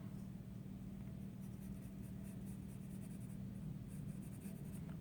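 A pencil scratches across paper, drawing a line for a prism diagram in a physics problem. The strokes are soft, close and continuous, with quick faint rasps over a low background hum and no speech.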